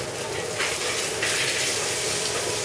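Cajun-spiced blackened salmon sizzles steadily in a hot pan, a continuous close frying hiss with slight surges in intensity and no talking.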